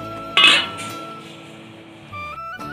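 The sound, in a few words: lid placed on a cooking pot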